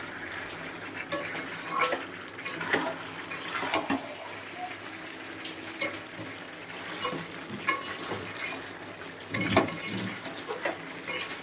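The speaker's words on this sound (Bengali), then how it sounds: "এখনও বাকি আছে কষানো, এখনও কিছুই হয়নি, আরও 5-7 মিনিট কষাবো।" Chicken being sautéed in a pan, a low sizzle beneath frequent clinks and scrapes of a spoon against metal as it is stirred over several seconds.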